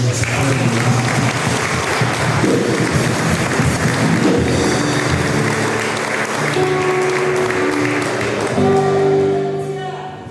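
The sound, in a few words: congregation applauding in church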